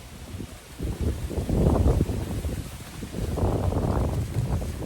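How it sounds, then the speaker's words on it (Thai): Wind blows outdoors in a mountain village, rushing and buffeting against the microphone as a loud, continuous roar that swells in two gusts, with no talking. "อยากจะบอกว่าลมที่เนี่ยมาตลอดเลยนะ"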